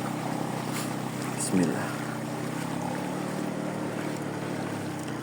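A vehicle engine drones steadily as it drives through flood water, with water washing and splashing around it. Someone speaks briefly over the continuous rumble.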